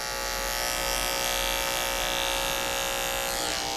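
Large electric hair clippers hum in a steady, bright buzz during a skin fade haircut, continuous and close with no voices.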